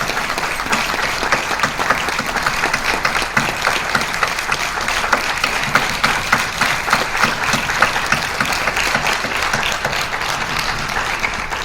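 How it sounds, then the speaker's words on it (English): A crowd at a film festival premiere interview in Goa claps loudly and continuously, with many hands making an even, sustained burst of applause that carries on for over ten seconds without talk. "let's give it a big clap to her"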